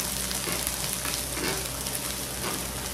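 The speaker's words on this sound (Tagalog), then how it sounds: "Isasabay ko na po yung luya para ma-fry sila." Garlic and ginger sizzle steadily in a little hot oil for Bicol Express with beef mask, a continuous close frying hiss with faint stirring and no voices.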